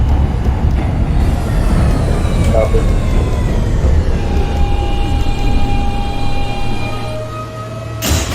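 An NYC Subway R160 F local train runs in the OpenBVE simulator with a steady loud rumble and rising motor whine that settles into sustained tones; a voice speaks briefly over it.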